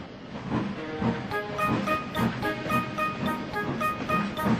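Gordon, a steam engine on a model railway, pulling away: rhythmic chuffing and hissing steam beats picking up a steady pace, moderately close, with a faint whistle-like tone over it.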